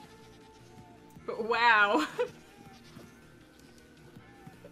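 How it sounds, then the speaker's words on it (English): A screaming goat in Minecraft lets out one loud, wavering, harmonic bleat of about a second, rising sharply out of quiet game ambience, with a voice speaking briefly around it. "Is it you? Are you the screaming goat?"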